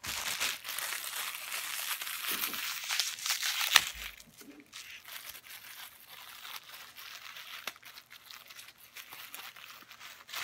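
Plastic packaging holding metal spoons crinkles and tears up close, a burst of loud rustling followed by quieter intermittent handling noises.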